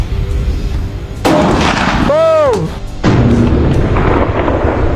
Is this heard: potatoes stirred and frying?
no